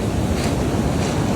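Ocean surf and strong wind at Ruby Beach in Olympic National Park form a loud, continuous broadband roar with buffeting wind on the microphone and no voices.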